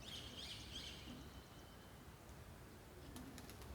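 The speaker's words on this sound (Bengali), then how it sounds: "এখানে অনেকগুলি কবুতর আসে সকাল সকাল" Pigeons coo softly on a Kolkata building in the early Sunday morning, a faint low murmur beneath steady outdoor hiss, with a few thin bird chirps early on and light ticks near the end.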